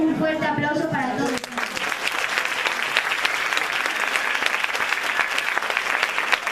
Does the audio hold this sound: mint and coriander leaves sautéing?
no